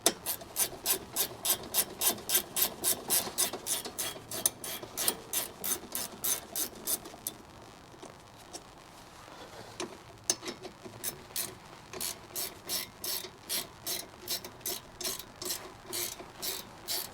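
A hand ratchet loosening brake bolts on a 2016 Ford Mustang, with rapid, steady clicking strokes in long bursts, a short pause, then more rhythmic ratcheting close by.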